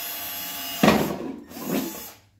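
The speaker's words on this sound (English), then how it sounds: "Take that drill out of there and drill a hole in the top of that" A power drill bores a hole in the top of a part during a Locost 7 kit car build, with two close bursts of whirring bite and a short pause between them.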